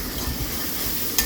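Chopped greens added to hot oil in a pan alongside cooking prawns, giving a steady close sizzle with a brief sharper crackle near the end.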